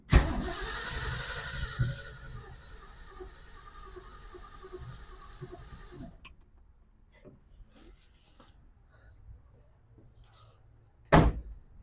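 A 1966 Ford Mustang engine, off the road for 20 years, cranks strongly on a jumper pack with a rhythmic, labored churn for about six seconds, then stops, followed by quiet handling noises and a sharp knock near the end.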